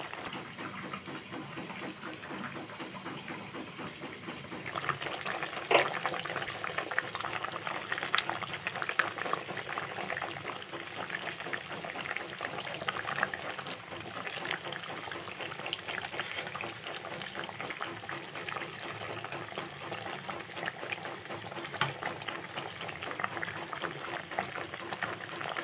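A hilsa fish curry with potato and eggplant simmers in a pan, giving a faint, steady bubbling and gentle popping that grows slightly busier partway through.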